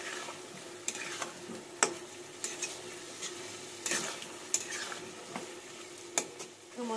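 Potatoes frying in oil for aloo dum, a soft steady sizzle broken by scattered sharp clinks and scrapes of a utensil stirring in the pan.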